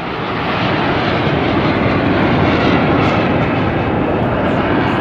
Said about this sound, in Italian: Ecco un aereo, vedete, giù in picchiata, in verticale.